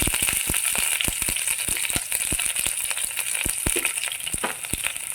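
Chopped garlic and green chili fry in a pan with a loud, constant bright sizzle, while rapid sharp clicks of a utensil against the pan repeat throughout.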